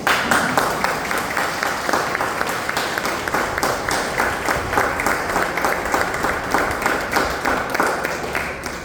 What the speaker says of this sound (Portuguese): vem para a salva de palmas